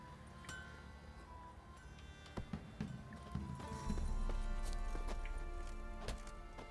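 Horse hooves clip-clop softly in The Witcher 3: Wild Hunt, a faint irregular patter of steps that grows into a louder, fuller wash of game ambience partway through.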